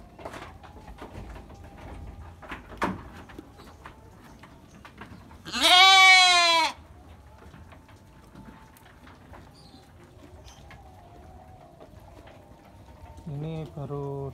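F1 Dorper crossbred sheep at a pen, one loud, close, wavering bleat lasting about a second, then a second shorter bleat near the end, amid quiet barn rustling.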